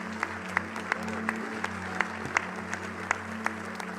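A church congregation claps in a steady, regular rhythm during a sermon, with sharp individual claps over a sustained low hum of music.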